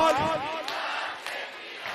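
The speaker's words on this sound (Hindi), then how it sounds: "एक बार दोनों हाथ उठ के ताली बजाते हुए नारा लगना चाहिए" A crowd at a political rally at Jantar Mantar chants and cheers loudly together in a sustained roar, with a few sharp accents that may be claps.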